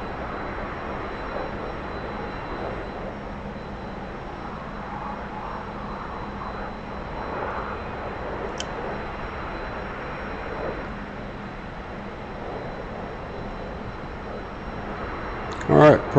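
T-45 jet trainer engine in the DCS flight simulator, a steady mid-level jet roar and whine holding constant throughout, with a brief click near the end.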